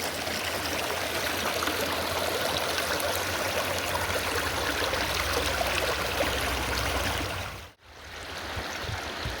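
Creek water flowing steadily at a gold sluicing site, a continuous close rushing babble with a brief dropout near the end.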